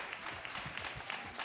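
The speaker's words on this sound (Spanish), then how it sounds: "Un aplauso para el padre, por favor" Applause for a priest at a live creationism-versus-evolution debate event, a steady wash of clapping from an audience lasting throughout, moderately quiet and without talk.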